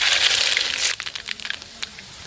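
Mustard seeds sputter in hot oil while being tempered for yogurt rice. A dense burst of crackling settles into sparse, scattered pops, all up close with no voices.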